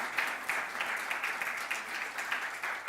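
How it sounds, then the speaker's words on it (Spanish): Congregation applauding in a church service, a steady dense wash of many hands clapping at moderate volume, sustained without a break and with no voices standing out. "Denle un buen aplauso al Señor"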